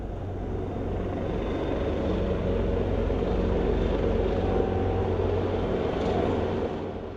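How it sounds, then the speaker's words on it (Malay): Five Malaysian Armed Forces aircraft make a ceremonial flypast carrying the national flag over Putrajaya, a loud, steady engine roar that holds throughout with no voices. "Istiadat tersebut disusuli terbang lintas hormat 5 pesawat Angkatan Tentera ATM"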